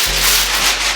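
Butcher paper is pushed aside beside a heat press, a short, close, loud rustling scrape lasting about a second, with a low hum underneath.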